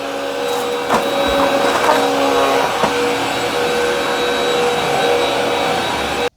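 A Hoover WindTunnel All-Terrain upright vacuum cleaner runs steadily nearby with a whirring motor hum and airy rush, a few faint clicks and bumps over it.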